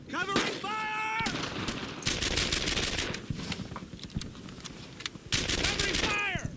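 Sustained machine gun fire in the World War II shooter Brothers In Arms: Earned In Blood, dense rapid bursts running through the whole stretch at close range, with short shouted voices breaking in near the start and end.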